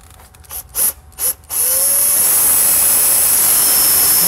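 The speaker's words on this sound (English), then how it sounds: "Now let's go ahead and make some holes here." A power drill with a quarter-inch bit bores holes in the engine compartment of a 2009 Mini Cooper Clubman during an electric conversion, starting with a few short bursts, then running in one loud, steady, high-pitched whine.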